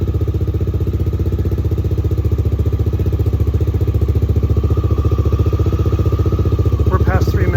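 Carbureted Honda XR650L motorcycle engine idling close by, a steady rapid thumping pulse that holds even throughout, with a few faint higher clicks near the end.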